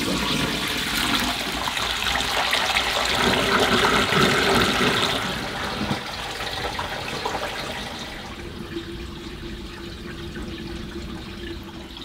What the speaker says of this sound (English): the next stage of the wash program is to empty the wash water